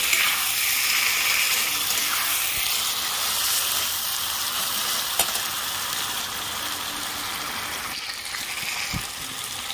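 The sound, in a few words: frying chicken pieces in a pan for biryani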